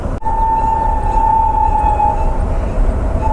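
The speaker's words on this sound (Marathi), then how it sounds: "तर फायनली ट्रेन आलेली आहे." A freight train rolls past a level crossing, a loud continuous rumble with a sustained tonal hum or whine carried throughout, close by and without talk.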